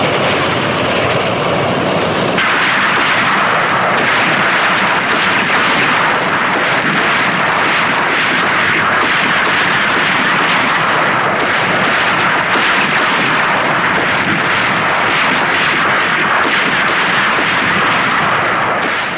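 Heavy artillery fire from the Kursk tank battle, a dense, continuous roar of distant guns and rumbling barrages filling the whole stretch without a break, loud and unrelenting with no voices.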